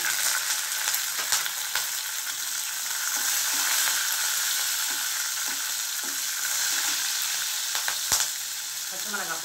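Green chilies frying with lentils in a pan for carrot beans poriyal give a steady, close sizzle with scattered crackles and a few sharp clicks.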